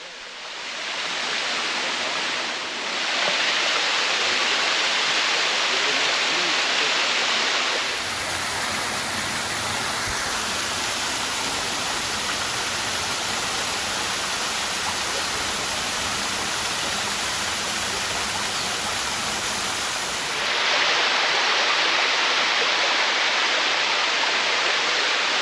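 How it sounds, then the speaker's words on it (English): A waterfall on the Blue Ridge Parkway roars in a dense, continuous rush of water that grows louder partway through and then eases slightly, heard alone without voices. "just sit there and listen to the water roar"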